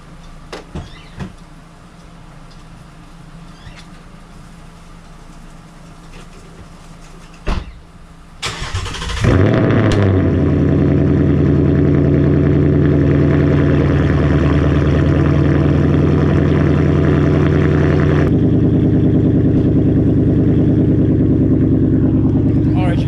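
A Mustang's 5.0 V8 cold-starts with a crank and sharp roar after a quiet stretch, then settles into a loud, steady, rumbling idle that continues to the end, with a few soft sounds before the start.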